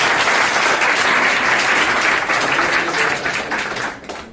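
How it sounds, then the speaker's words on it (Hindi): Loud, dense applause from an audience honoring a younger brother at a community gathering, filling the whole stretch before thinning and fading toward the end. "तो मैं चाहूंगा इनके लिए एक जबरदस्त तालियां हों।"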